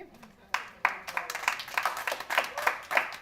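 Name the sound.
audience applause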